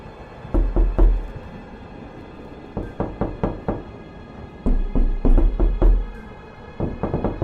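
Knocking on a door in three bursts of rapid, fairly loud raps separated by short pauses, with no voices.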